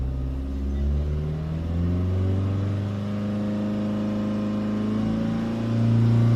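A Renault Kangoo diesel engine revving outdoors during a decarbonizing treatment, a close, steady idle rumble rising into a drawn-out rev with climbing pitch and a louder surge near the end, no voices.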